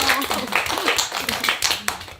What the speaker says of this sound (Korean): 달림에게 박수